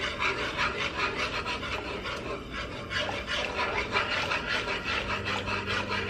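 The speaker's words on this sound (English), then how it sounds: "we're going to add 2 cups of heavy cream. Add that in slowly while you're whisking" A whisk works steadily through heavy cream as it is slowly added to a roux for Swedish meatballs, giving continuous close scraping and swishing with no talk.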